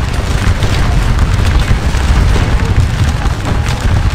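Dense, continuous rumble of massed musket volleys and battle explosions in the Napoleonic strategy game Scourge of War: Waterloo, a loud unbroken wall of booming gunfire with no clear gaps.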